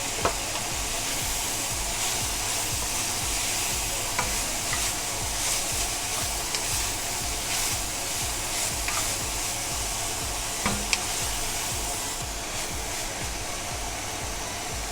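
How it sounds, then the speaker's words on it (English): Shredded carrots stir-fry for pancit bihon in a pan, giving a constant dense sizzle with occasional light ticks and scrapes as they are tossed. "Now I'm adding the shredded carrots."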